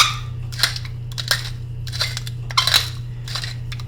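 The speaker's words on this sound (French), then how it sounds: "je vais ajouter un petit peu de poivre en grains moulus" Black peppercorns ground in a pepper mill over a potato dish: several short bursts of crisp, gritty crunching, close and fairly loud, over a steady low hum.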